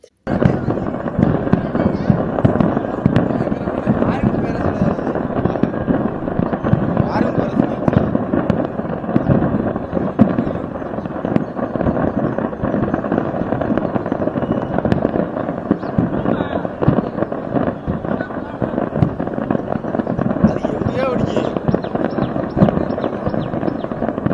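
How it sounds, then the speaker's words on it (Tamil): Dense, continuous crackling and popping of firecrackers exploding nonstop in a fireworks factory fire, loud and chaotic, with a few voices faintly underneath. "பட்டாசுகள் பயங்கர சத்தத்துடன் வெடித்து சிதறின"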